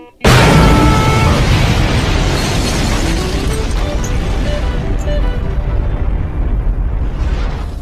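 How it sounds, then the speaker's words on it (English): A loud cartoon bomb blows up with a sudden, sharp boom, then a long, rumbling roar and crackling debris that slowly fade, with a few sound-effect tones mixed in. "Patrick, that's a bomb."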